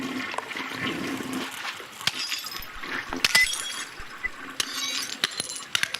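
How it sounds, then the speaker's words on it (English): Glass light bulbs crushed and shattering, followed by a loud rushing toilet flush carrying the fragments away, with sharp clinks and cracks of breaking glass scattered through the swirling water. "I got some more of your light bulbs to crush and flush here"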